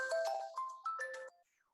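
Mobile phone ringing with an incoming call: a short melodic ringtone of rising chimed notes plays clearly and alone, then cuts off abruptly, leaving a faint tone trailing after it.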